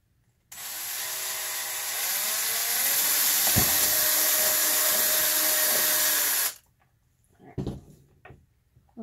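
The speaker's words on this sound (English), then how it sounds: "You're just going to drill out this middle hole." A power drill with a 1/16 inch bit bores out the center hole of a vinyl record, a loud steady whine that rises slightly and runs about six seconds before cutting off, followed by a few faint handling knocks.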